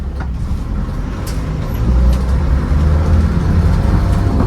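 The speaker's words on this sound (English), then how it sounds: "There's first gear, second gear, third gear, and fourth gear." A 1997 Land Rover Defender 90 with the 300Tdi diesel pulls along a bumpy dirt road, its loud, low engine drone rising steadily through the gears with faint rattles over the rough surface.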